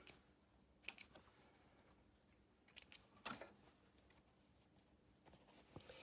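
Scissors snip loose threads on a sewn box blazer: several quiet, crisp cuts spaced a second or more apart against a faint, still room, with no talking.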